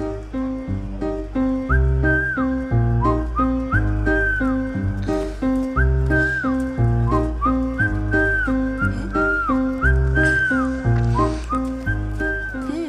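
Someone whistles a rhythmic melodic tune over a prominent beat, with short repeated phrases and rising slides in the loud, continuous music.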